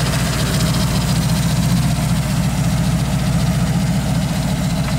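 A 1930 Ford pickup hot rod's engine idles loudly and close by, a deep, steady, rapid rumbling pulse that continues evenly throughout with no talking.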